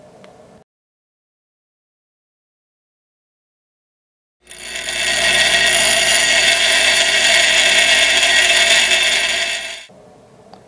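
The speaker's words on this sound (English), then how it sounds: "take this off and grind down the other one to fit back there" A grease zerk fitting from a Polaris Scrambler steering stem bushing is ground down with a power grinder: a loud, steady, harsh whine that starts abruptly after silence, runs about five seconds and cuts off, with faint handling noise at each end.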